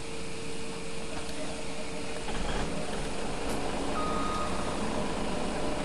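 A truck in the video game Farming Simulator 17 idles with a steady engine drone, with a faint repeating reversing beep over it and no talking.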